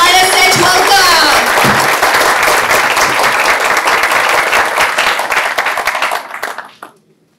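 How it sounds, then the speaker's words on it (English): An audience applauds a panel at a conference event, steady dense clapping that fills the room loudly before tapering off and fading out near the end. "Please join me in giving our panel another round of applause and a warm ISH welcome."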